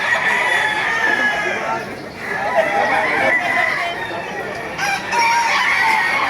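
Roosters crow and hens cluck in a crowded poultry market in Baliuag, the birds loud and continuous with voices chattering among them.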